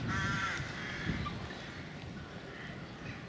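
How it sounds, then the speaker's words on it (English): Crows caw repeatedly at a moderate distance over a steady outdoor background hiss at a wild camping spot in Cresswell, the harsh calls clustered early and fading later. "Hope them crows don't keep us awake."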